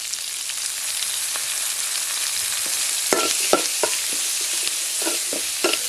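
Onions with a little salt fry in a pan for a snail gravy, giving a continuous close sizzle with intermittent spoon scrapes and taps in the second half.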